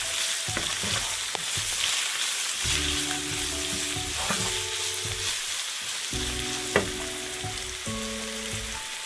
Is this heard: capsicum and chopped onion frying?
yes